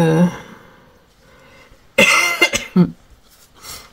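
A few short, sharp coughs from someone nearby, separated by quiet pauses, with no talking.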